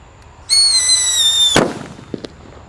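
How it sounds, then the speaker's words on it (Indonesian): Whistling Thunder firecracker going off outdoors: a shrill, steady whistle for about a second ending in a sharp loud bang, followed by a couple of faint pops. "Ada mercon Whistling Thunder yang kita nyalakan."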